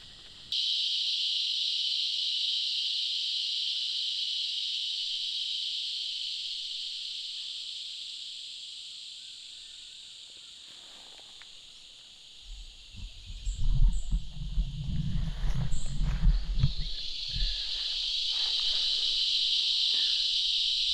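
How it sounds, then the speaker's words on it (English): Loud, continuous cicada drone fills the air at a bush campsite, fading briefly midway, while low rumbling and crackling sounds rise near the end. "Almost deafening those cicadas."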